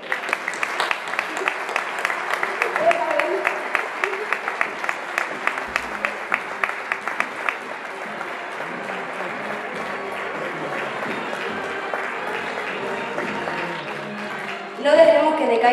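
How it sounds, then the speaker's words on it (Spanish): Sustained applause from an audience at a Lent concert of a cornet and drum band, crisp clapping that thins out after about seven seconds into lighter clapping and murmur, with a voice speaking near the end. "Un aplauso."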